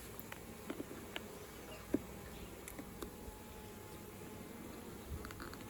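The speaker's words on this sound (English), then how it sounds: "a few excess bees dangling on the comb there" Honey bees hum low and steady on the combs of an opened hive on a cool day, a continuous soft drone with a few faint clicks and knocks and no talking.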